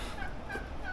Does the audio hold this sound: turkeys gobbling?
yes